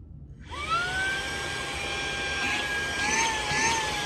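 A Saker mini handheld vacuum cleaner switches on with a sharp start and then runs with a steady, high-pitched motor whine and airy rush. The sound stays close and loud throughout, with no talking.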